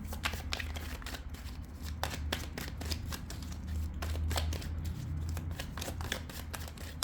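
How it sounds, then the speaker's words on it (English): Tarot cards being shuffled and drawn, a continuous run of quick papery riffles and flicks at close range over a low steady background hum, without speech. "Just get these last cards out."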